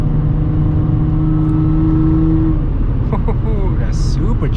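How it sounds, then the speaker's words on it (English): A supercharged Audi S4 B8.5 with AWE exhaust and test pipes drones steadily from inside the cabin, then its tone drops away as it downshifts, with short whirs and revs near the end. "That supercharger. Can you guys hear it?"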